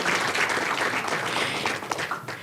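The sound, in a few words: applause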